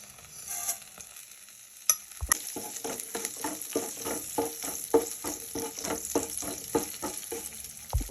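Mustard seeds and cumin crackle and splutter in hot oil for tempering, a quiet start followed by a steady run of sharp pops and sizzles close by.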